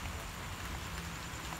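Rain falling in a steady, dense, even hiss with no breaks, close and moderately loud.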